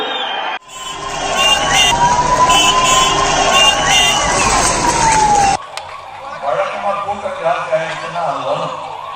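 An ambulance siren wails loudly as a steady, slowly falling tone for about five seconds, then cuts off abruptly, leaving murmuring voices and background crowd noise.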